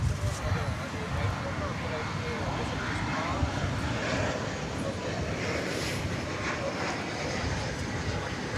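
Engine roar of a Qantas Boeing 787-9 Dreamliner approaching DFW Airport at night, a steady broadband rumble holding throughout, with people talking over it.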